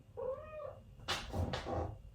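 A cat meows once, close and clear, a short tonal cry followed by a couple of soft breathy rustles.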